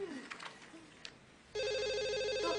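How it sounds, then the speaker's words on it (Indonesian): A telephone suddenly starts ringing with a loud, steady electronic trill that cuts in over quiet room noise and continues to the end. "telepon angkat"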